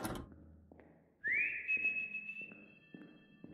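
A single long whistle, rising then held steady, sounds alone inside the horror video game Lost in Vivo, with faint soft knocks and thuds beneath it.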